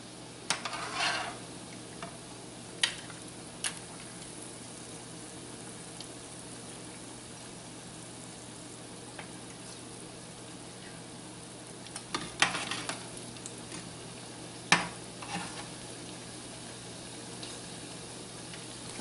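Shrimp hush puppies fry in hot oil with a quiet, steady bubbling hiss, broken by a few sharper clinks and bursts of crackle, and no one speaks.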